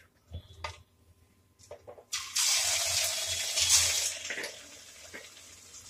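Rava punugulu batter balls are dropped into hot oil for deep frying, a loud close sizzling hiss that bursts up after a few soft clinks and then slowly fades.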